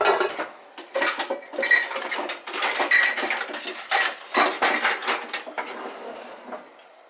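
A pan of keto enchiladas handled on a stovetop, with close, dense metallic clanks, scrapes and clinks of cookware coming in repeated bursts.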